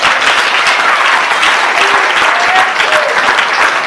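A church congregation applauds to acclaim the Lord during a Sunday service, with dense, continuous clapping from a large crowd, loud and sustained throughout, with faint voices mixed in.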